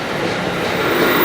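A train rolls past on the railway in Simi Valley, a loud, dense rumble of wheels on track that holds steady through the short stretch without any horn or voices.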